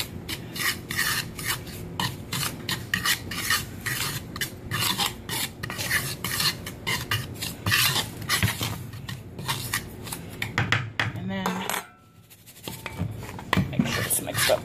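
Flour dredge with baking powder being stirred in a bowl, a continuous scraping and rubbing rasp in quick irregular strokes, close and fairly loud, with a short pause near the end before the mixing resumes.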